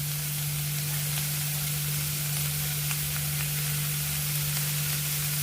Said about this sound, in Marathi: मटार आणि गाजर आपल्याला चांगले परतून घ्यायचे.